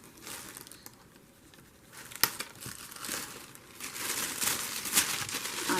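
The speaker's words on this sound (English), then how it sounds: "I'm gonna cut some tissue paper." Tissue paper being cut and handled, soft crinkling and rustling close by with a sharp snip-like crackle partway through, growing denser and louder toward the end, no talking.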